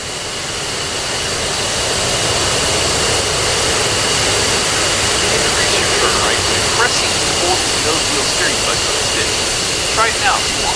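An F-15E Strike Eagle taxiing in DCS World, its jet engines producing a loud, steady roar and whine that swells slightly at the start and then holds. Someone talks over the engines throughout.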